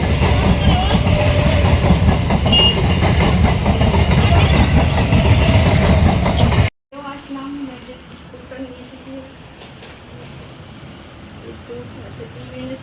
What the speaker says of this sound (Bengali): ট্রেন যাচ্ছে, ট্রেনটা পার হলে তারপরে যাবো